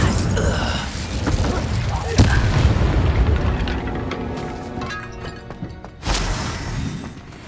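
An Incendio fire spell cast in Hogwarts Legacy: a burst of whooshing flame and impact near the start, a roaring rumble fading out, then another loud flare near the end, with a voice shouting over it.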